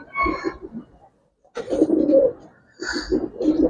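Giribaz pigeons cooing in short rolling bursts, close and fairly loud, with a brief pause between two cooing phrases and no talk.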